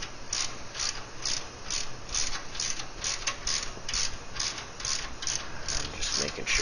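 A ratchet backs out a valve spring tool on an LS engine, giving a steady run of quick, close mechanical clicks against a constant background hum.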